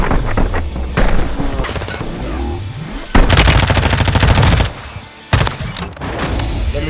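Rapid automatic gunfire from the Call of Duty Warzone 2 video game, loud bursts of shots with heavy stretches of sustained fire and brief pauses, close and dominant with no talk.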